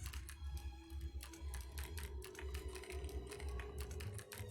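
Rapid, steady keyboard typing in the video game Haunted Halls: Green Hills Sanitarium, with dense clacking keystrokes over a low, constant hum.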